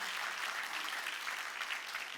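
A church congregation claps during a Wednesday worship service, with continuous dense clapping held at an even level throughout and no voices standing out.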